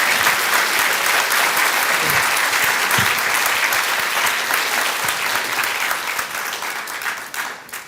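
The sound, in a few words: applause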